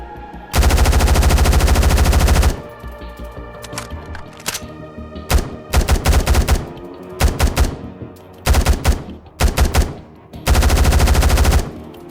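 Automatic gunfire from a tactical shooter game bursts loudly and close in repeated sustained volleys and short strings of sharp shots, separated by brief pauses with clicks and thunks between them.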